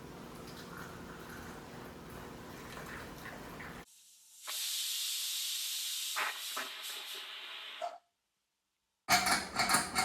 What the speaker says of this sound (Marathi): निघली हवा, निघली.